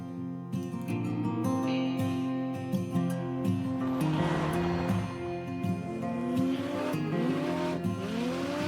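A car drifting in a drift pit, engine revving and tires squealing in rising and falling wails, loud and sustained with overlapping skids.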